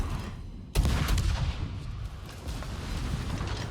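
Warship guns fire in a naval combat video game, with a sudden loud boom followed by a rumbling, reverberant roll of distant cannon fire and battle noise, no voice.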